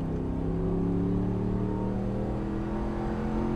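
A Ram 1500 pickup truck engine revs and rumbles steadily through a Borla Atak stainless steel exhaust, a deep droning growl with rising tone, close and loud, no voices.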